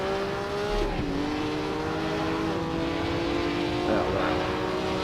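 A historic 1950 Formula 1 car at the Swiss Grand Prix circuit of Bremgarten in the Assetto Corsa racing game. A steady engine drone runs throughout, with rising and falling pitch sweeps as another car draws near.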